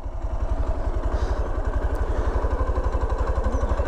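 A motorcycle engine on a rough off-road trail near Gummitham, Kurnool, thumps in a steady, fast, even rhythm close by, running at low speed with a faint clatter and no talking.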